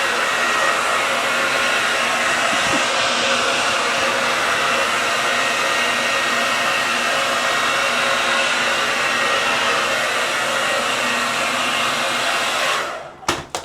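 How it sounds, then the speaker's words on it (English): A hair dryer blows loudly and steadily with a constant broadband whoosh, then clicks off near the end. "We get that dryer."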